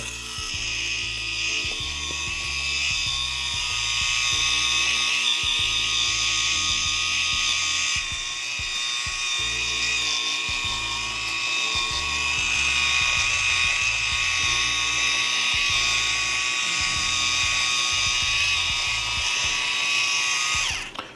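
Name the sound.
electric rotating facial cleansing brush spinning on face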